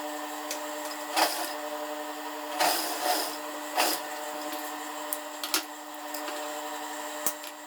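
A sewing machine stitches a seam on a dress with a yoke, heard as several short bursts of rapid mechanical clatter separated by quiet pauses and light handling ticks.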